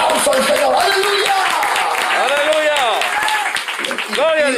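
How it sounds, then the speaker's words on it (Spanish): Church congregation clapping and cheering in praise during a Spanish-language sermon, a steady wash of applause under a preacher's loud amplified voice. "Fuerte ese aplauso al Señor."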